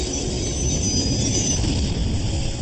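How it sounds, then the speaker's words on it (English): A runaway freight train speeds along the rails, a loud, continuous rumble of wheels with steady high metallic ringing above it and no talk. "It begins with an out-of-control train."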